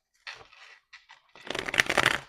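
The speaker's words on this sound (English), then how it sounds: "Last shuffle." A deck of cards is shuffled at close range: a few short riffles, then a longer, louder flurry of rapid flapping.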